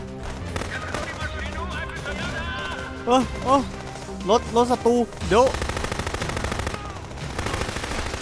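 Gunfire in the video game Contraband Police, scattered bursts of shots cracking out amid a busy game soundscape while someone talks excitedly over it.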